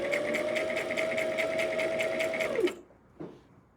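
A sewing machine runs a steady stitch through scrunchie fabric, its motor whirring evenly with a rapid clatter before winding down and stopping, followed by one brief soft knock.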